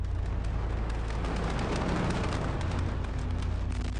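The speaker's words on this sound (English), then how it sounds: "a crackling sound is followed by a first explosion" A deep, continuous roaring rumble from a massive ammonium nitrate explosion at a Beirut warehouse, loud and sustained from start to finish with a dense crackling texture.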